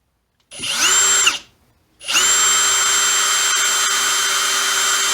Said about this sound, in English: I'm going to drill right here in the center